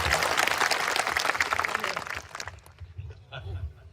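Crowd at a public speech event in Aathadungari clapping together, a dense loud burst of applause that fades after about two and a half seconds into scattered murmurs and low noise.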